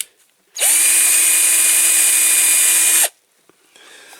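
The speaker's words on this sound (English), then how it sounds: "And also it's polishing the end of my drill chuck." A power drill spins at steady high speed for about two and a half seconds while polishing a wheel from a Corgi Major Mack container truck model, loud and close, starting and stopping abruptly with no talk.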